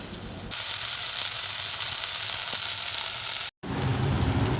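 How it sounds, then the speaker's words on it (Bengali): Cutlets frying in hot oil, a loud, dense, continuous sizzle held close and steady, with one brief dropout near the end before the crackle resumes, no voices. "লাল লাল করেই ভেজে নিলেই হয়ে যাবে কাটলেট"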